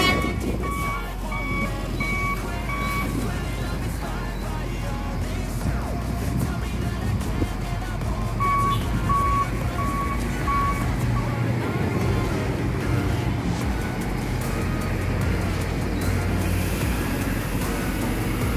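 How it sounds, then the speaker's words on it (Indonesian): Mercedes-Benz OH1526 coach bus pulling out of Padang Panjang bus terminal, its engine rumbling steadily and loud, with intermittent reversing beeps and busy terminal noise around it. "Ini Mercedes-Benz OH1526. Unit Sayonara Royal Eksekutif berangkat menuju Jabodetabek"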